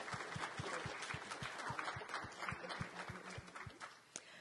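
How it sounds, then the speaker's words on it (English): Conference attendees applaud after a speaker's talk on Métis history, soft diffuse clapping at a distance under a steady low rhythmic thumping. "round of applause."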